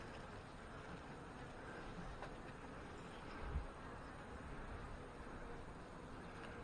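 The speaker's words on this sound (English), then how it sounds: "Well, lots of bees there." Honey bees buzz around an opened hive during a colony check, a steady low drone with a brief louder swell partway through.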